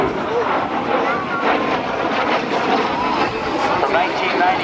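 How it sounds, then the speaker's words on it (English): A jet aircraft flies a double aileron roll at the 2008 NAS Oceana airshow, heard as a loud, sustained roar with rushing wind noise outdoors, steady in level throughout. "Double aileron roll for Jethro"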